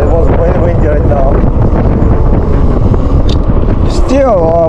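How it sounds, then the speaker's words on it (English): Loud wind buffets the microphone in a steady roar while riding a Super73 Rival Motor Goat e-bike, with a voice speaking underneath and a brief rising whine near the end. "It was very windy right now."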